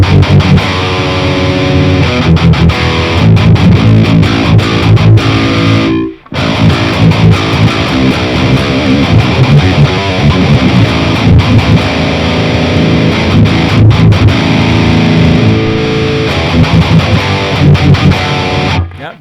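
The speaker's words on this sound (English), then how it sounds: "this is the way I would set a normal tube screamer, and it would sound like this" Electric guitar with a tube screamer pedal in front of an Audio Assault Bulldozer amp sim, playing loud, saturated metal riffs with crunchy bite and chugging rhythm, with a brief gap around the middle.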